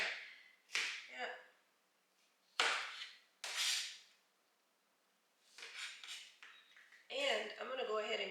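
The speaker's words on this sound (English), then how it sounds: "I'm going to go ahead and cut up all of these peppers" A knife cuts bell peppers on a cutting board in a home kitchen, giving several sharp, separate chops and scraping bursts with short pauses between them, fairly close and loud.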